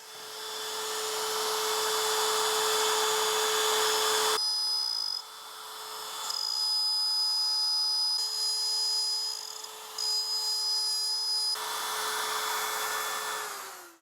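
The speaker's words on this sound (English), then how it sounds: "let's route this truss rod channel" Wood router cutting a truss rod channel in a guitar neck blank, a loud steady high-pitched whine that changes tone as the bit bites into the wood, then briefly drops and resumes.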